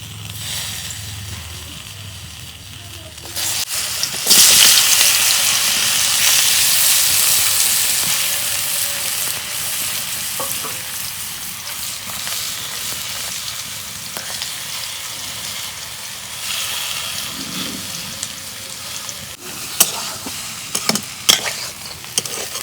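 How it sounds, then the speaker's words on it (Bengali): Vegetables with salt, turmeric and dried chillies fry in a pan over a village clay stove, bursting into a loud, close sizzle that settles into a steady frying hiss, with stirring clicks and taps near the end. "কলাগুনা ভাইজা নেব।"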